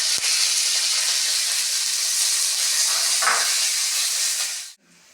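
Chopped green chillies and curry leaves fry in hot oil with a loud, continuous hissing sizzle that stops abruptly near the end.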